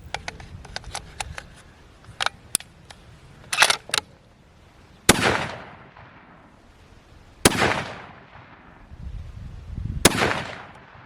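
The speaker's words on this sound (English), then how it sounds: "All right, shoot another 3-shot group." Three sharp, loud rifle shots from a 270 WSM fired as a group, each a hard crack with a trailing echo, evenly spaced a few seconds apart after some quieter clicks and handling noises.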